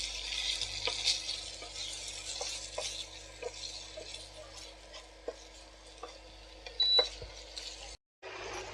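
Chicken kofta spice masala cooks with yogurt in a pan, a soft continuous sizzle with scattered stirring scrapes and clicks, briefly dropping out near the end.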